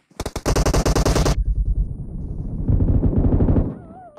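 Automatic gunfire in PUBG Mobile on Erangel: a rapid, loud burst of rattling shots, then a second heavy volley of sustained fire that trails off.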